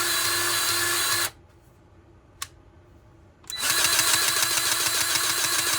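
A battery-powered grease gun runs with a loud whirring motor drone, stops for about two seconds with one sharp click in the pause, then starts again and runs steadily.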